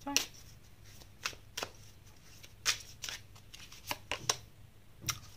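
Tarot cards being shuffled by hand in a quiet room, a series of crisp riffling bursts at irregular intervals with soft, faint handling noise between them.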